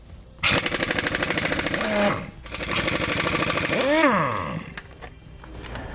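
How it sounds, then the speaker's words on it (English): An impact wrench fitted with a 1 5/16 socket rattles lug nuts off the wheel of a 2014 Ford F-53 motorhome chassis, two long loud buzzing bursts with a pitch sweep as the tool spins down, then quiet. "We'll be using a 1 5/16 socket to remove the lug nuts."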